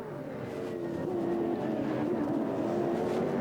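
Onboard a 1996 V8 Australian Touring Car racing at Pukekohe in New Zealand, the engine droning loud and steady as it rises in pitch, heading into the end of the back straight.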